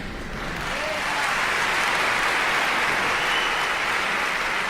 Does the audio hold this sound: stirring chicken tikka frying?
no